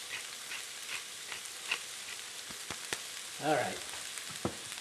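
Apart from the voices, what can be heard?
vegetables sautéing for chicken soup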